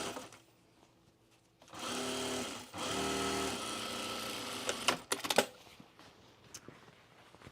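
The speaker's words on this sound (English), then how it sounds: "I'm trying to sew on the straight line." A sewing machine runs in two bursts, stitching fabric for a gift bag, a close mechanical whir that pauses briefly and then stops, followed by handling clatter and quiet.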